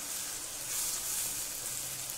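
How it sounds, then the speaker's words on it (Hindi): Chopped tomatoes frying with salt in a pan over a raised flame for chole chana masala, giving a steady, close hiss and sizzle with no talking. "नमक डालने के बाद हम 2 से 3 मिनट तक अच्छे से टमाटर को भूनेंगे"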